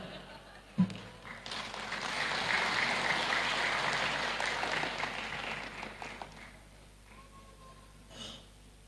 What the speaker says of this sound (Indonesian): Nih tepuk tangan sama Pak Mendak nih